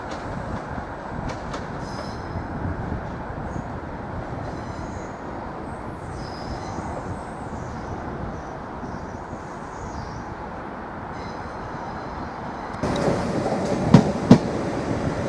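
A Class 755 train, unit 755417, departs Norwich station toward Great Yarmouth with a steady low rumble of rolling wheels and motors, and louder clatter and squeal near the end.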